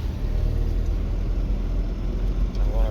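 A worn Toyota 22RE truck engine pulling in third gear gives a steady low rumbling drone with mild fluctuations, close and loud with no talk.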